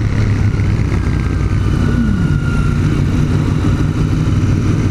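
Royal Enfield Continental GT 650 motorcycle engine held around 3000 RPM during a test ride, a steady, loud mid-pitched drone with a slight pitch sweep partway through and no talk.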